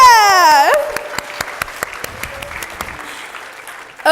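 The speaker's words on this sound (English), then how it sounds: "Can we just have a round of applause?" Audience applause at the ngAtlanta 2018 developer conference talk: after a bright whoop, scattered individual claps ring out in an irregular patter, moderately loud and thinning toward the end.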